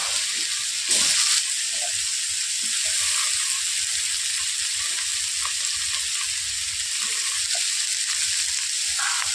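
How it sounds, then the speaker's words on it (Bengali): Steady, bright sizzling of potatoes and carrots frying together in hot oil, with occasional stirring clinks and no talking. "এরপর আমি ভেজে নিচ্ছি আলু, গাজর একসঙ্গে, আমি ওগুলো সব ভেজে নিচ্ছি।"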